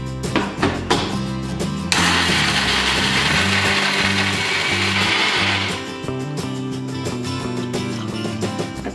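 A kitchen mixer grinder whirs and rattles as it grinds fried wheat-flour puris into churma, a loud steady motor burst of about four seconds framed by clattering jar and blade noises.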